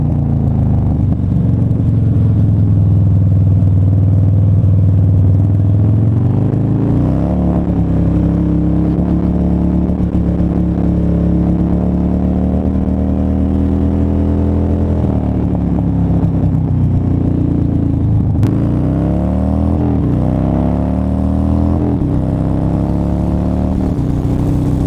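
A Harley-Davidson Dyna motorcycle on the road, with a loud, close engine droning the whole time as it shifts up and down through rising and falling revs, steady and with no talking.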